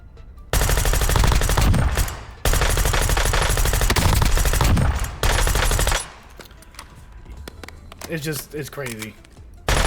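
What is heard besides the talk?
pistol gunfire in the video game Warzone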